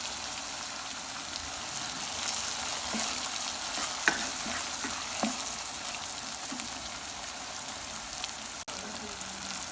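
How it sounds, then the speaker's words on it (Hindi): Tomatoes frying with garlic and ginger paste in a pan for chicken qeema give a constant hissing sizzle, with occasional spoon knocks and stirring scrapes close by. "लहसुन अदरक ऐड करने के बाद इसमें टमाटर ऐड करेंगे।"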